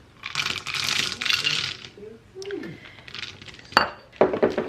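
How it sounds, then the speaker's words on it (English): Heaping scoops of frozen cranberries tumble into a pie dish in a home kitchen, giving a brittle rattling clatter in two bursts, then a couple of sharp clinks against the dish near the end. "So Maria is gonna put 2 cups of cranberries. We're using frozen today"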